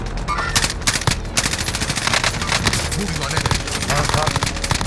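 Rapid automatic gunfire in the video game Call of Duty: Modern Warfare, a loud, dense stream of bursts and shots with a player talking briefly over the firing.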